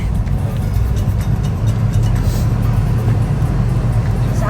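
A car driving on a road in the USA, with a steady low engine hum and road rumble filling the cabin, close and continuous, with no talking.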